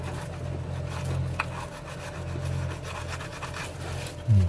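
Sandpaper rubs over a sculpted human figure in a close, soft, steady scraping rhythm. A low hum sits underneath, and there is a brief louder knock near the end.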